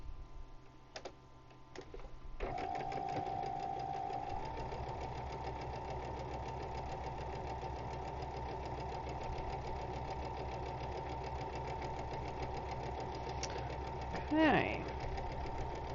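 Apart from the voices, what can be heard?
sewing machine stitching a row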